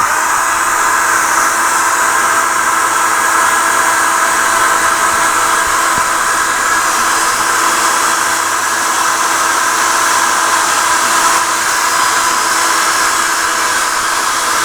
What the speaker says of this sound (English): and then I get my hairdryer